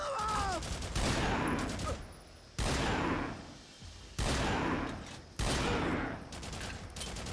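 Bursts of rapid gunfire in the video game Haze come in four loud sustained volleys separated by brief lulls, with a voice briefly heard early on.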